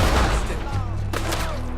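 Rapid gunfire in the Red Dead Redemption 2 video game, a loud close volley of shots at the start fading into echoing cracks, with a muffled voice faintly underneath.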